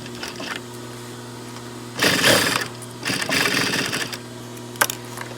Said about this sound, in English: Now we will put our zipper here and just stitch it.